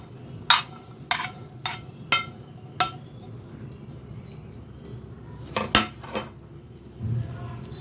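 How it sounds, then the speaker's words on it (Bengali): Green chillies being mixed into raw mangoes for a spiced mango pickle, heard as a series of sharp metallic clinks of a spoon against a bowl, irregular and close, with soft rustling between them and no talk. "এখন আমি এই আমগুলোর মধ্যে প্রথমে আমি এই কাঁচা লঙ্কাগুলোকে মিশিয়ে দেবো"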